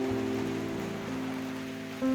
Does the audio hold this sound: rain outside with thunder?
yes